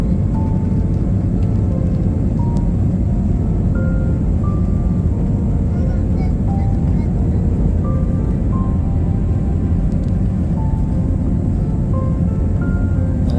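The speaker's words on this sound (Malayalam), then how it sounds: "അങ്ങനെ അതാ ടേക്ക് ഓഫ് ചെയ്ത് നിലത്തുനിന്ന് പൊങ്ങി വിമാനം അതാ പൊന്തിക്കൊണ്ടിരിക്കുകയാണ്." Passenger airplane taking off on a flight toward Armenia, heard from inside the cabin as a loud, continuous engine roar and rumble that holds steady throughout.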